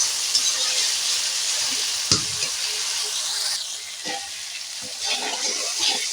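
Whole spices frying in hot oil for a prawn and ash gourd curry: a steady, close sizzle with occasional stirring scrapes and a sharp clink of a utensil near the pan.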